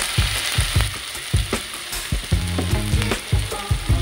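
Dried tuna (ikan kayu) is tipped into a hot pan for Acehnese keumamah with sambal asam sunti, a constant close sizzle broken by repeated scraping stirs and clunks of the utensil.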